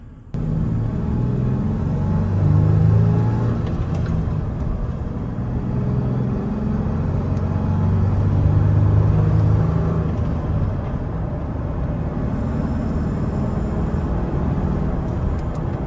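A car passes by a 2003 Toyota Tacoma TRD Off-Road, a steady low rumble and whir that swells and fades over about sixteen seconds, with no talking.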